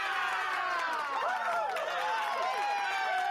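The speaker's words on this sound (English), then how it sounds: "I had to use one of the Apple sound applauses" Applause sound effect from an Apple sound library, a crowd clapping and cheering in a continuous, fairly quiet wash, with whistles rising and falling over it.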